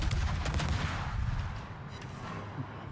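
Naval gunfire from ships in World of Warships, with a Khabarovsk destroyer in battle: dense, continuous booming rumble with overlapping shot cracks, loud and sustained throughout.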